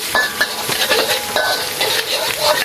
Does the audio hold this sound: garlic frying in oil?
yes